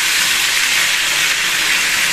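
Pointed gourd frying in hot oil gives off a loud, steady broadband sizzle that holds without a break, with no talk over it.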